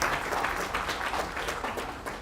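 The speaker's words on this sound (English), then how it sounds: "round of applause for FlexAI" Audience at a San Francisco tech demo night applauding for FlexAI, a dense wash of many clapping hands, steady and fairly loud throughout, with no distinct speech.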